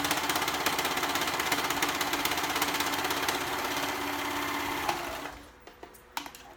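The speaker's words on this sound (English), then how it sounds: "Ugh, I serged the band." A serger sewing a fabric band onto a dress, a loud rapid mechanical whir running steadily close by, then stopping near the end with a few light clicks and handling sounds.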